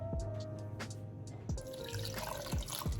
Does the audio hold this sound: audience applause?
no